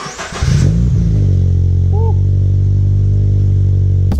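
A supercharged Subaru BRZ with a loud aftermarket exhaust fires and revs up, then holds a sustained, deep, droning roar up close with a brief whine rising through it.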